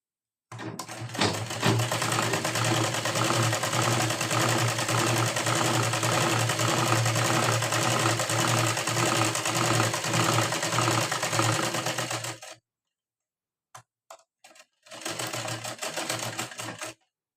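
A sewing machine stitches a seam on part of a blouse in one long, even run of about twelve seconds. After a short pause comes a brief second burst, steady and close.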